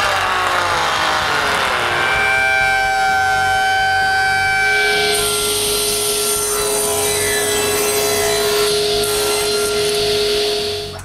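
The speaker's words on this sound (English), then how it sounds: "It's time to mill all the maple pieces to finish the parallelogram." A milling machine cuts maple pieces for a wooden jointer's parallelogram with a loud, sustained, whining roar whose pitch shifts partway through, running steadily until it winds down at the end.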